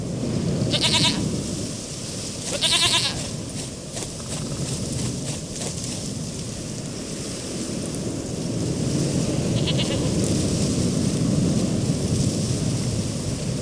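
Goat bleating in The Witcher 3: Wild Hunt, two short wavering bleats near the start, then a fainter third later, over a steady outdoor ambience with low rumbling.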